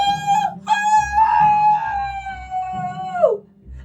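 A character's voice imitates a long, loud wolf howl in an animated children's story, rising then holding a steady wavering tone for several seconds before sliding down, with a brief break near the start.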